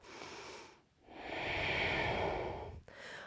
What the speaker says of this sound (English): Taking 2 more full deep breaths.